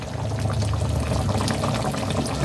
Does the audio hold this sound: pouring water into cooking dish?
yes